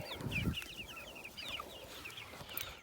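Meat chickens cluck and chatter softly at a distance on a farm over a steady outdoor background, with a few scattered calls throughout.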